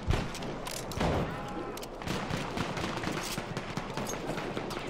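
Energy weapons fire in Battlefield 1 multiplayer, rapid repeated gunshot-like bursts and a few heavier booms in a constant busy battle mix, with faint voices underneath.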